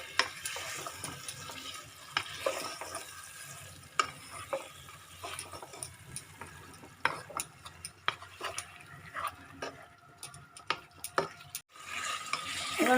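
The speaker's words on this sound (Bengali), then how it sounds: "এবার কষানো হয়ে এসছে" Vegetarian potato curry (alur dom) with paneer paste and yogurt sautéed over a raised flame in a pan, with steady sizzling and frequent clinks and scrapes of a spoon stirring against metal, fairly quiet and close.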